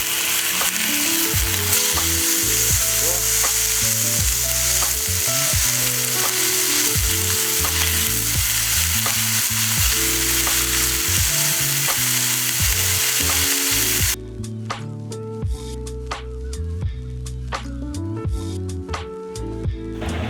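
Carne asada sizzles and fries loudly in a hot pan just after being flipped, a dense continuous crackle with stirring scrapes, the level dropping slightly near the end.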